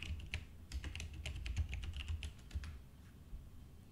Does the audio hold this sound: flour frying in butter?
no